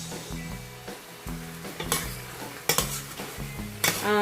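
Chicken with fish sauce bubbles in a covered pot over the heat, a low sizzle running under repeated metallic clinks and clatters of the hot lid and pot.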